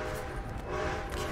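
A steam train in Red Dead Redemption 2 rumbles at moderate level with a steady tonal whistle-like hum over a low rolling chug, continuous and unbroken through the short moment.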